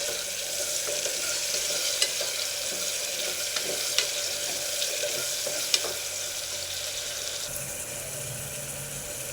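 Mutton curry with ginger garlic paste, curry leaves and salt cooks in a pan with a soft, even hiss of bubbling and frying, marked by a few faint clicks of a spoon; no voices are heard.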